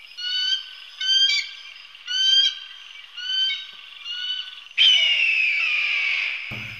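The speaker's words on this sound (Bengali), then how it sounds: "থেকে থেকে কি একটা রাত পাখির ডাক" A night bird gives an owl-like call, five short wavering hoots in an even rhythm followed by a longer, louder drawn-out cry that breaks off abruptly, heard alone and fairly close.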